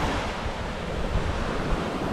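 Sea waves washing onto a fine-sand beach in Tawi-Tawi, a steady broadband surf roar mixed with wind buffeting the microphone, no voices.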